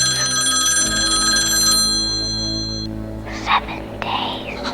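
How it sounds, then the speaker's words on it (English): A telephone bell rings in a horror film, sharp steady harmonic tones for nearly two seconds before cutting off, followed by faint rustles and soft whispery sounds. "picking up a phone and ringing you just to say 7"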